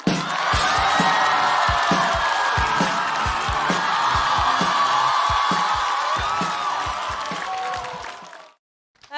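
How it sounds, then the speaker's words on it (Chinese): A studio audience at a stand-up comedy show applauds and cheers for a comedian in a dense, sustained wave of clapping and whoops that fades out near the end. "我们掌声送给墩儿。"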